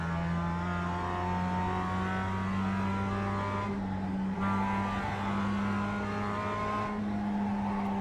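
A Mazda MX-5 holds fourth gear on the Nordschleife in the iRacing sim, its engine a steady, even drone that barely changes pitch. No one talks over it.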